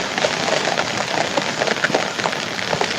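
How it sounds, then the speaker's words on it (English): Steady rain falls outdoors with a dense, even hiss and scattered droplet ticks, moderately loud and continuous throughout, with no voices. "Still raining."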